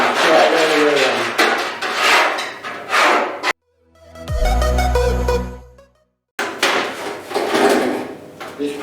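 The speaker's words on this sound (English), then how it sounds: "I'm going to use a scribe. And you can scribe all the way around." A metal scribe scratches along the edge of a body panel on a Mk 1 Escort bubble arch repair, giving repeated close rasping strokes, interrupted midway by a lower ringing, knocking stretch before the scraping resumes.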